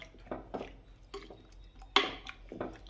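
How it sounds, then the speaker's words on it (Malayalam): A ladle stirs curry and water together in a pot for a Kerala ozhichu curry, giving several soft scraping, clinking strokes spaced out irregularly. Each stroke is close and moderately loud, with no talking. "വെള്ളം ഒഴിച്ചു കൊടുത്തു നന്നായി ഒന്ന് മിക്സ് ചെയ്ത് എടുത്തിട്ടുണ്ട്"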